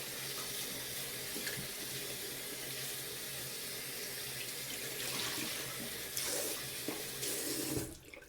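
Water from a tap runs steadily into a sink as a stuffed toy is rinsed and squeezed under it, a constant close splashing rush that cuts off just before the end.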